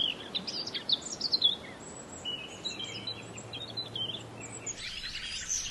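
Several birds singing in a forest, bright chirps and warbling phrases at a moderate distance, busiest at the start and returning near the end over a soft, steady background hush, no talk.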